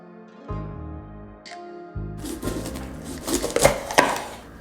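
A knife trims the ends off mushrooms on a cutting board while making vegan pizza, with a few soft taps and scrapes under a steady musical backing that grows busier toward the end.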